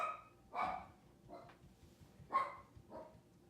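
A dog barks several times indoors, loud, separate woofs spaced about a second apart with short yips between them, with no one talking.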